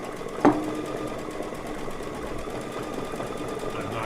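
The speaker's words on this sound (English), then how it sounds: "I was about ready to fall asleep here watching this machine stitch out." A sewing machine stitches out a quilt design in a fast, steady hum of rapid stitching, with a single brief knock near the start and no speech.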